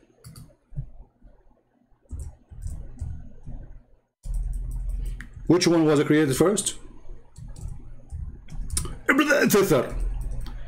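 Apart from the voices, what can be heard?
typing on a faulty computer keyboard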